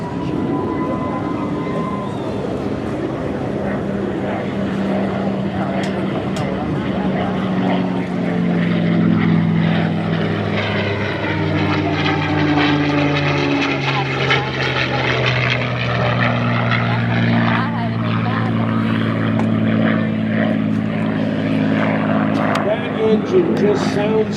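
A P-51 Mustang fighter with a Packard-built Merlin V12 drones steadily at an airshow, its propeller and engine note rising and shifting as it flies off into the distance, with voices talking over the sound.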